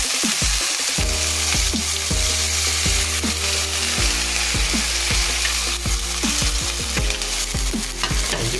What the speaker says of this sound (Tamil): இதே மேலே நம்ம வந்து இஞ்சி பூண்டு பேஸ்ட்டு இதில் கலக்கி போகிறோம்.